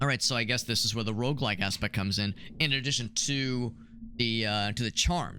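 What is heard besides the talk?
No distinct noise like a dog, phone or traffic.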